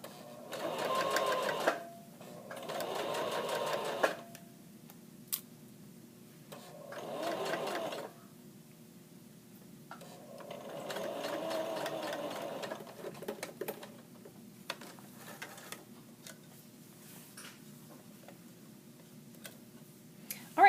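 A sewing machine basting a pant pocket runs in several short bursts of rapid stitching, separated by quiet pauses and small clicks, fairly close and moderate in level, with no talking.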